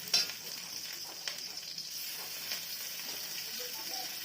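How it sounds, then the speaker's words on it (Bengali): Dried fish fries in a pan with garlic and green chilli, a steady crackling sizzle with light stirring clicks throughout. "শুটকি মাছ দিব, একসঙ্গে ভাজা ভাজা করে নেবে।"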